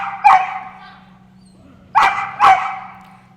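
A large dog on an agility course barks three times, sharp loud yelps close by, one early and two in quick succession later, with a low steady hum underneath.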